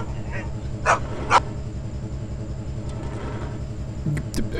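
A dog in the video game Leisure Suit Larry 7 gives two short barks close together, then a few fainter yips, over a low looping game background hum.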